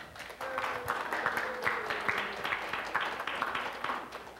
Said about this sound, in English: Can we have a round of applause for Tiger and Froggy?